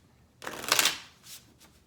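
Tarot cards shuffled by hand, a quick close riffle of papery flutters lasting about a second, then a softer tap as the deck settles.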